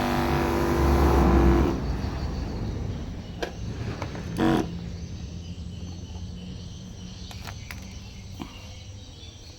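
A small engine on a homemade assembled sprayer pump runs with a loud rough drone that quickly drops to a steadier, quieter hum and carries on through the rest.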